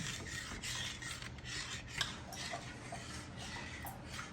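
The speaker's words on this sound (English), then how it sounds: "Stir that in." A spoon stirs curry powder into homemade BBQ sauce, making a rhythmic rasping scrape against the pot with light taps, close and steady, with no voices.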